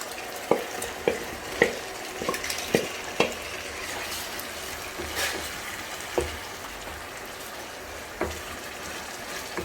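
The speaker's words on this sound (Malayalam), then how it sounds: "ഇനി ഇതിലേക്ക് നമ്മൾ നമ്മുടെ നേരത്തെ തയ്യാറാക്കി വെച്ച സോയ ചങ്ക് ഇട്ട് കൊടുക്കുന്നു." Soya chunks are stirred into a gravy frying in oil, a continuous close sizzle broken by repeated sharp clacks and scrapes of a spoon against the pan, coming quickly at first and then more sparsely.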